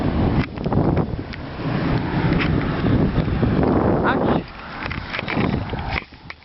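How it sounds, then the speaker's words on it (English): Gusty wind buffets the microphone on an outdoor walk at night in the rain beside a road, rough low rumbling bursts that rise and fall, with a person talking over it. "pretty windy right now,"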